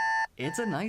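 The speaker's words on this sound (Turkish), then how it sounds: "Bu Tıpkı şu güzel sesi çıkarabilen çalar saat gibi." An alarm clock gives a steady electronic ringing tone that stops abruptly, followed right away by a voice speaking.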